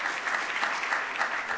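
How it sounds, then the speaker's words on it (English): Short burst of applause from a conference audience at an international planning congress closing ceremony, quiet and evenly textured clapping from a seated crowd. "Big applause for our team"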